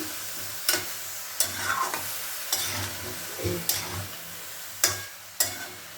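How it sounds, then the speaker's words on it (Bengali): Vegetables for a vegetable torkari stirred in a pan, a spatula scraping in sharp, irregular strokes about every second over a low background sizzle, with no voices. "দেখুন আমি এটাকে নাড়াচাড়া করে দিলাম।"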